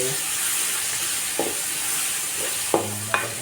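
Chopped onion and garlic fry in hot oil in a pan for a rice dish, giving a loud, continuous hiss and crackle close up, with a few brief clinks of a utensil near the end and no talk.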